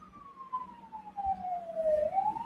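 A police car siren wails on a slowly falling tone and then rises again, steady and moderately loud over low traffic rumble, with no talking.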